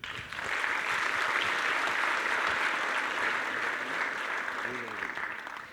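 Sustained applause from a conference audience at the opening keynote of DevFest Toulouse 2019, a dense, steady wash of many hands clapping that holds at full strength for several seconds before easing slightly.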